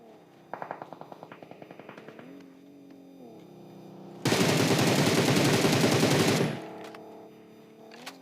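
PUBG Mobile gunfire: a short burst of rapid single shots, then a loud sustained automatic volley lasting about two seconds, over a low game hum with no voices.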